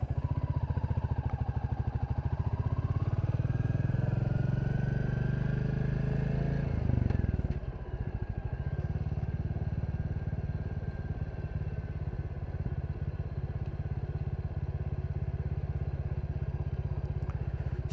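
A Royal Enfield Classic 350 motorcycle riding along a village road, its engine a steady loud low thump throughout, with a brief rattle and dip in the note partway through.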